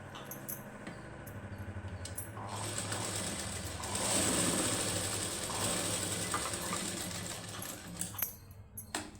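Sewing machine stitching the high neck of a plain blouse, a steady mechanical whir and rapid needle clatter running continuously at close range.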